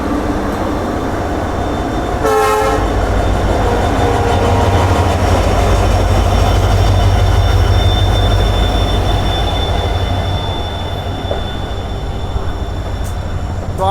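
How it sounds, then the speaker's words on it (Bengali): An express train running past Guwahati, India, heard as a continuous loud rumble of wheels on rail with clattering and a brief squeal or horn-like tone, close and steady throughout with no talk. "তো আমরা এবার গুয়াহাটি ছাড়িয়ে সামনের দিকে যাচ্ছি।"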